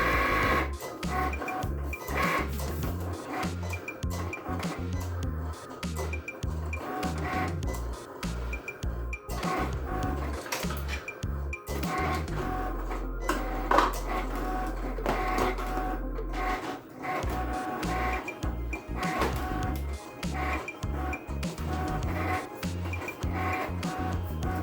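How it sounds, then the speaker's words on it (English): A Cricut cutting machine slicing vinyl on its mat makes a busy run of whirring motor moves, clicks and carriage shuttles, with a deeper steady hum in the middle stretch, close and continuous with no talking. "I'm going to cut my vinyl."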